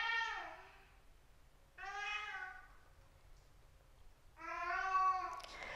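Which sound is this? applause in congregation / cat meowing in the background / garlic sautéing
cat meowing in the background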